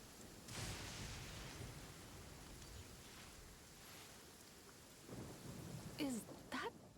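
Thunder rumbling in the game Genshin Impact over steady rain noise, a low rolling boom swelling near the start and another louder crack with sharp rumble toward the end, fairly distant and soft, no voices.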